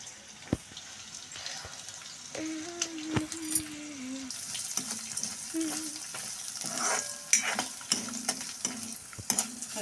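Onion and garlic with a little rock salt sautéing in a kadai, a soft steady sizzle with scattered stirring clinks and scrapes, close and fairly quiet, no talk.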